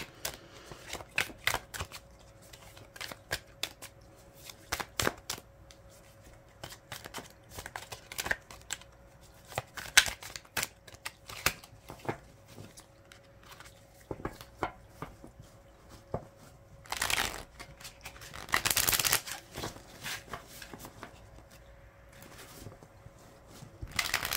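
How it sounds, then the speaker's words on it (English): Tarot cards shuffled repeatedly in quick bursts of crisp riffling and flicking, close and clear, with a louder sustained riffle near the end and no talking. "We'll get a few shuffles here"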